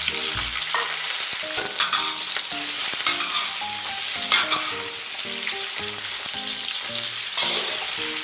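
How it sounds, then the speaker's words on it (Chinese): Scallion, ginger and garlic stir-fry in a little warm oil in a wok, a steady loud sizzle with repeated scraping and stirring clatter throughout, no talking. "锅里边留点底油，油温微微热，"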